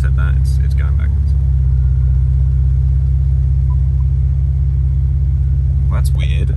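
BMW E90 with a built engine and 8HP70 automatic gearbox creeping slowly backwards, giving a steady, close, low engine rumble that holds throughout with a few faint knocks near the start and end.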